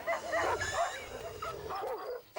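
A dog whimpers and yelps in distress after a snake spits venom into its eyes, a run of high, wavering cries close by with short gaps between them.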